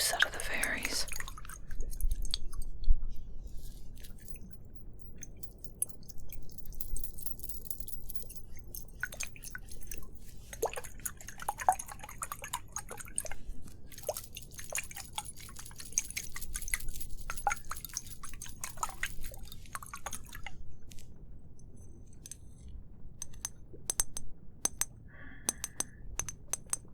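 Soft, close wet squishing and dripping liquid, with scattered clicks and gentle squelches across a witch-themed ASMR roleplay about squeezing juice from fairies, under quiet whispering.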